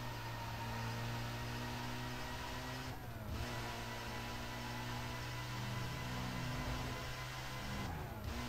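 A BMW engine in the racing game Need for Speed Most Wanted drones steadily, a continuous buzzing hum with pitch glides and brief shifts at gear changes, constant and fairly faint.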